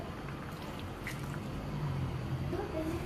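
Ground coconut paste thinned with water pours into a pot of broccoli kurma, a soft wet glug and drip at low level with a quiet background hum.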